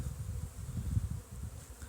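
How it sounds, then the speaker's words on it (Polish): Honeybees swarm busily around winter beehives in an apiary on New Year's Day, a low, continuous droning buzz with many insects overlapping, fairly faint and unbroken. "No czegoś takiego jeszcze nie miałem, że 1 stycznia takie szaleństwo było w ulach."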